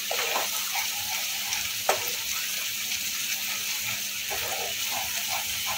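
Paneer bhurji frying in a pan with chopped coriander leaves, stirred with a spatula, giving a steady close sizzle with soft scraping strokes and a single sharp clink, no voices.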